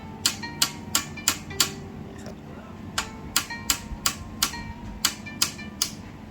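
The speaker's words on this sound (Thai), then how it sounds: "แล้วก็ใช้ค้อนเคาะเบาๆครับ" Sharp, light hammer taps knocking out the peg of a samurai sword handle, in irregular clusters, a dozen or so metallic knocks close by, with faint talk underneath.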